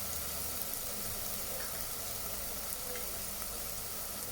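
Spices for matka prawn masala sizzle in a pan over a low flame with a soft, steady, even crackle and hiss that runs the whole time without a voice.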